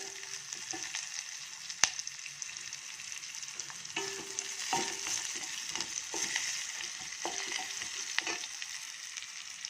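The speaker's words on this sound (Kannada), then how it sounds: "ನೋಡಿ ಒಗ್ಗರಣೆ ಇಷ್ಟು ಫ್ರೈ ಆದರೆ ಸಾಕು" Mustard seeds and lentils tempering in hot oil for sambar, a soft continuous crackling sizzle with scattered light clicks of stirring, fairly quiet.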